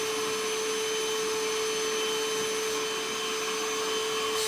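An Einhell 18-volt cordless wet and dry vacuum runs with a steady, fairly quiet whine and airy rush, holding one constant tone throughout without pause.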